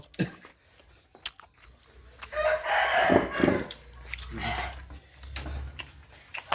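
A rooster crows in a rural Thai village yard, a mid-loud call rising over scattered ticking and clattering background noise, with brief fowl sounds around it.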